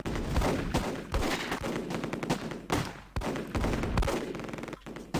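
Mortar fire and gunfire in the video game Close Combat, a dense, continuous crackle of rifle and machine gun shots punctuated by heavier blasts, loud and sustained throughout.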